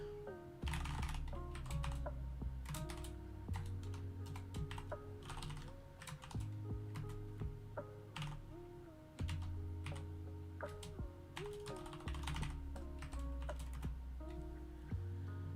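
Someone types on a computer keyboard, entering data by hand: quick irregular bursts of close, soft clicking keystrokes with short pauses, no talking.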